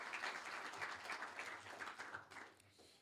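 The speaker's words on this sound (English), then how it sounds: "Could you please give them a round of applause?" An audience at a 2010 student idea-pitch event applauds the recognized students, a faint, steady wash of clapping that thins out toward the end.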